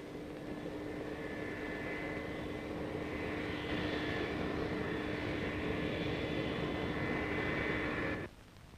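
A fixed-wing airplane's engine drones loud and steady for several seconds with a whining tone, then cuts off sharply.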